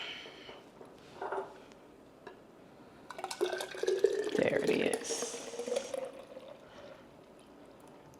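Juice from an AMZchef juicer pouring into a pour cup, a liquid stream building midway and running several seconds with splashing and dripping, after a brief spoken remark.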